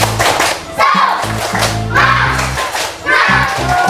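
A primary school class of children claps together in a rhythmic spirit clap, sharp hand claps in quick, patterned bursts over about four seconds, with young voices chanting along.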